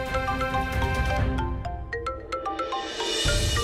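A melodic electronic ringtone plays loudly and repeatedly, its tones cycling over steady background sound for several seconds.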